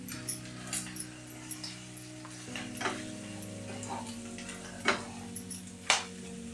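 Mutton tripe frying in a pan while being stirred with garam masala and coriander powder, a soft steady sizzle broken by irregular scraping and clacking stirring strokes.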